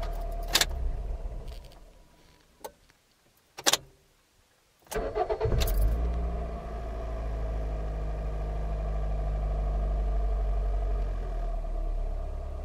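After a few clicks and key rattles, a Toyota engine cranks and catches after a variable valve timing control valve replacement, then settles into a steady, low idle rumble that continues.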